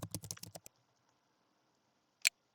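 A quick burst of keystrokes on a computer keyboard rattles up close, then stops, followed by near silence and one sharp final key press.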